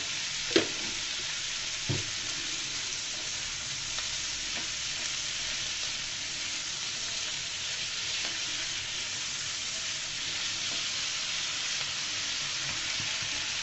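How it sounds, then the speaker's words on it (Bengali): Onions frying in oil, with an even, continuous sizzle and hiss throughout, plus a couple of brief stirring knocks near the start. "পেঁয়াজ ফলেগুলো দিয়ে আমি দু তিন মিনিট এভাবে ভেজে নিব তেলের মধ্যে দিয়ে দিলাম"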